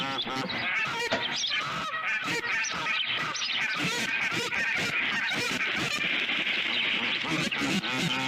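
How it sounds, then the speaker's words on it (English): Geese honk at an osprey nest site, loud and close, a dense run of overlapping calls with quick repeated bursts that carry on without pause. "So here's a couple of geese checking it out. They're looking over the nest"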